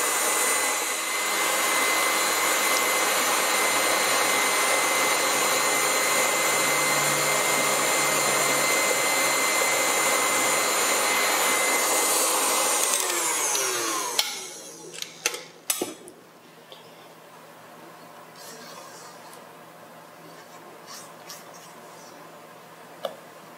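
Electric mixer beating eggs for rolled cake batter, a loud steady whirring drone that runs for about fourteen seconds, then cuts off, leaving faint clicks and light kitchen knocks.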